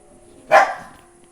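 A single sharp dog bark indoors, close and fairly loud, rising suddenly and trailing off in a short decay against a quiet room.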